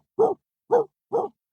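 A dog barks three times in a clear, evenly spaced sequence, each short bark isolated against silence and heard close and moderately loud.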